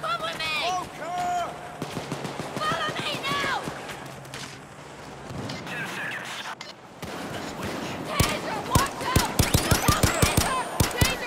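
Sniper and heavy gunfire in Payday's Transport: Crossroads heist on Death Wish difficulty: scattered cracks early give way to a dense, rapid run of sharp shots near the end, with voices in the game.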